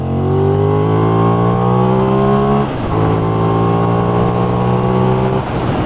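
A 2020 Benelli 752S motorcycle engine revs up loudly through second gear, pitch climbing steadily, dips briefly at a shift, then climbs again under constant wind rush.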